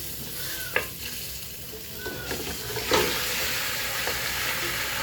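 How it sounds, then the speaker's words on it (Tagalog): Pork ribs sizzle in hot cooking oil, with a steady close frying hiss and a few sharp stirring scrapes and pops through it. "Naglalagay na po ako ng mantika. Tapos lalagay ko po yung pork ribs."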